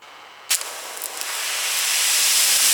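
A Ryobi cordless pressure washer fed by a 50-foot hose bursts into spraying with a sharp onset, then holds a steady bright hiss of water that slowly builds in strength, close and alone.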